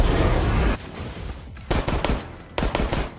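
Bursts of gunfire from a Resident Evil video game: a sustained rapid volley, a pause, then two more short loud clusters of shots.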